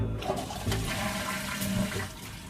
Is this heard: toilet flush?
yes